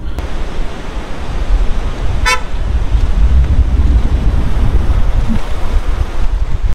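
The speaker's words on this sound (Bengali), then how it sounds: "এটা অ্যাকচুয়ালি নুরানাং ওয়াটারফলস থেকে যে জলটা আসছে সেইটা।" River water from Nuranang Falls rushes loud and steady as a broad continuous roar, with one brief high-pitched toot partway through and no talk.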